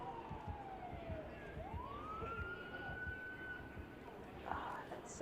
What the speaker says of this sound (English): I have an ambulance from the other side too.